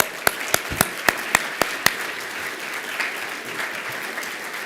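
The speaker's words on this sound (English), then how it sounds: "Let's give her a round of applause." A short burst of scattered clapping from a small audience at a business association meeting, a handful of sharp claps at first that thin out into soft, uneven patter.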